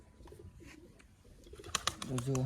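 Pigeons coo softly nearby, low throaty calls building toward the end, with a voice speaking briefly over them.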